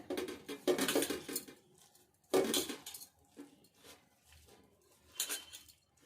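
Pea vada batter with turmeric being mixed by hand in a bowl, heard as soft squelching, patting bursts and a few faint clinks, spread over several seconds with quiet gaps.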